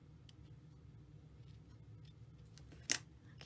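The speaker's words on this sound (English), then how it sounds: "I'm going to trim these ends a little bit." Scissors make a single quick, crisp snip trimming paper ends on a handmade Christmas fun fold card, faint and close, with a few soft paper rustles around it.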